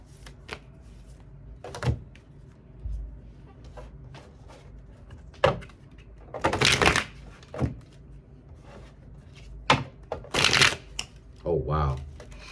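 Tarot cards being shuffled in the hands, giving bursts of riffling and flapping at intervals with quiet gaps between them, close and fairly clear, with occasional soft handling sounds.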